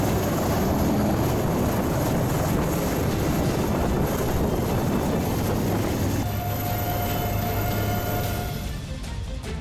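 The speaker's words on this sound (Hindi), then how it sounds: "एयरफोर्स के पायलट ने अपने हेलीकॉप्टर को बाढ़ के पानी से घिरे एक मकान की छत पर उतार दिया" An Air Force helicopter sets down on the roof of a house surrounded by floodwater in Idukki, Kerala, its loud close rotor roar and engine whine continuous before fading near the end.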